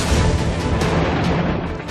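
Loud, dense gunfire and explosions from Transformers film footage, a continuous barrage of booms and crashes filling the whole stretch without pauses.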